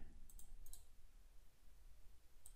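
Computer mouse clicks in CAD software work, a few sharp, light taps in quick pairs near the start and one at the end over a quiet background hum.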